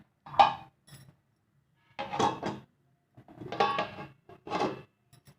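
A metal lid clatters onto a cooking pot of garlic curry (poondu kulambu) in a few short, close clinks and knocks, separated by quiet pauses.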